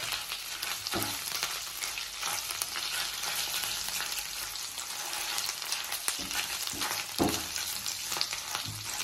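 Fish fries in a pan in a home kitchen with a dense, continuous sizzle and crackle that stays steady throughout, broken by a few soft thumps and stirring scrapes.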